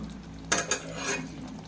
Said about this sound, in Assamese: এইখিনি দি এতিয়া লগত ভালকৈ মিক্স কৰি আকৌ 2-3 মিনিটমান অলপ ভাজি ল'ম।